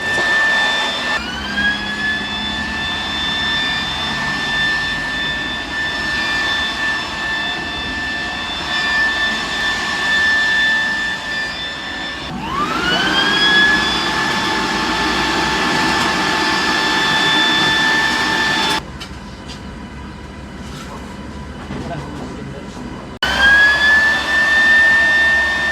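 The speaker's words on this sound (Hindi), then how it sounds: "बहुत ही आसानी के साथ ये वैक्यूम का काम कर रही है और ब्लोअर का काम भी बहुत ही तेज़ी के साथ कर रही है" A Hi Tenci vacuum blower machine runs loud and close with a high whining motor tone over a broad airy rush, spinning up twice from brief stops, the whine rising in pitch each time.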